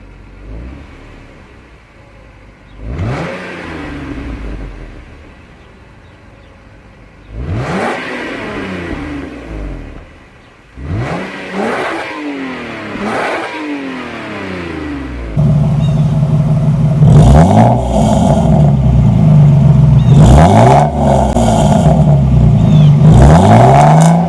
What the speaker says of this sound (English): we're going to get into some revs, flybys, and then we're going to compare the OEM stock exhaust to the eBay catback exhaust system